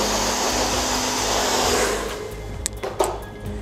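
A handheld hair dryer blows steadily on hair during a styling lesson, a loud broadband whoosh that softens and drops away near the end, leaving a few faint clicks and handling noises.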